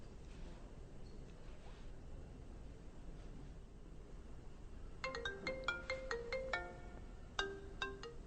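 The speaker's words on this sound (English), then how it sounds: "I'm going to call the iPhone" An iPhone rings with a melodic electronic ringtone as a Wi-Fi call comes in, the bright chiming pattern starting partway through after a stretch of low background hiss, moderately loud and repeating.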